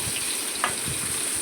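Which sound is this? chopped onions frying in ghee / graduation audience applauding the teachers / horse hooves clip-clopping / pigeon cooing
chopped onions frying in ghee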